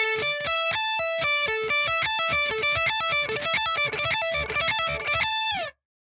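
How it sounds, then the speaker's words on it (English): A clean electric guitar plays a quick, even sus2 sweep arpeggio of ringing notes that rise and fall in a steady pattern, alone, then stops abruptly. "This creates a sus2 arpeggio."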